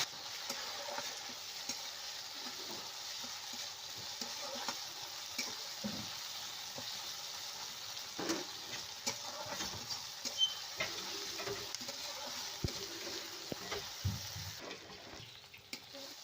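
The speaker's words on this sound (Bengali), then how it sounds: "আবার একটু নাড়াচাড়া করে নেব, যাতে আদা রসুনের গন্ধ না হয়" Fried onions with ginger-garlic paste are stirred in a pan for a fish-head bottle-gourd ghonto, giving a quiet continuous sizzle with occasional soft scrapes and knocks of the spatula, close and low in level without speech.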